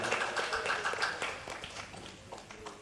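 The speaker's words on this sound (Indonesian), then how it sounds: "Tepuk tangan dulu untuk kelompok 1" A school audience at a competition applauds a student group with a burst of close, dense clapping that tapers off toward the end.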